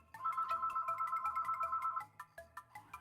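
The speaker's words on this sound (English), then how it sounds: "Oh, the phone's back." Phone ringing indoors: a buzzing electronic tone pulses rapidly and continuously for about two seconds, then breaks into a few separate short bursts, fairly close, with no talk over it.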